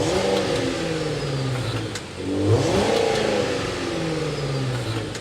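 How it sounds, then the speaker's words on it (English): Range Rover Sport Autobiography V8 engine idling and revving, a steady deep exhaust note with a swell in revs midway, close and loud with no talking. "Because we have the V8, we need to go inside, start it up so you can hear that exhaust note."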